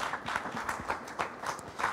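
Conference attendees at a breakfast event applaud the speakers: a brief burst of brisk, uneven hand clapping from a modest-sized room, fairly close and continuous for about two seconds.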